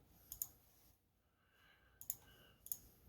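Mouse clicks in a video game menu, a few sharp quiet clicks in small clusters with soft interface tones between them, close and alone without talk.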